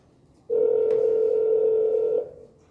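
Telephone dial tone on a call placed by an AI phone system: one steady, loud continuous tone lasting under two seconds, starting abruptly and cutting off cleanly.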